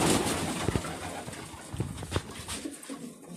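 Pigeons cooing softly in a loft in Lipetsk, a steady low murmur of repeated coos with a few sharper calls, moderately close and continuous through the moment.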